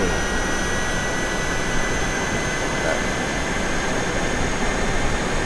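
A jet airliner taxiing in Microsoft Flight Simulator 2020, a loud, steady engine roar and high whine that holds evenly throughout, close and unbroken.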